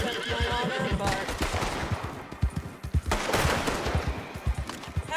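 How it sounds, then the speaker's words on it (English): Gunshots ring out in Red Dead Redemption 2 among whinnying horses and clopping hooves, a run of sharp reports scattered through busy game noise with someone talking over it. "Hey, who's shooting at me?"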